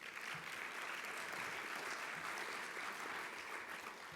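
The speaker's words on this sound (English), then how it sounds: "So please, round of applause for Dr." Steady, even applause from an audience at a childhood cancer summit, a dense wash of clapping sustained throughout at moderate distance.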